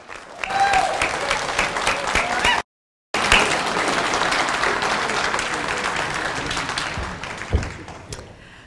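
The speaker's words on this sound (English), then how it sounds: "Give her a round of applause." Loud, dense audience applause for Pamela Geller at a Texas event, sustained clapping with cheers, broken by a short gap of silence, then resuming and tapering off near the end.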